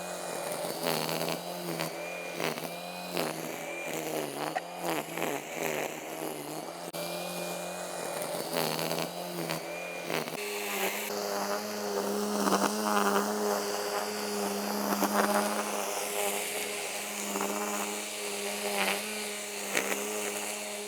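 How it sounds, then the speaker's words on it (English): A line trimmer engine runs steadily nearby, a buzzing two-stroke drone that shifts in pitch as the throttle changes, with no talk over it. "Next up, we'll have the line trimmer"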